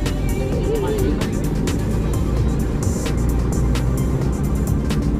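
Busy night traffic on the Karawang outer ring road, a loud continuous rush of car and engine noise with vehicles passing close by, heard from inside a moving vehicle, with a voice speaking over it.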